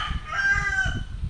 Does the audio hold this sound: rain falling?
no